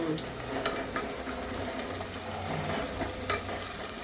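A child stirring food ingredients in a bowl while making puffed rice at home, a steady close scraping and swishing with occasional soft knocks, running continuously without speech.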